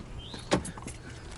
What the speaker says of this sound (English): look at that window being all rolled up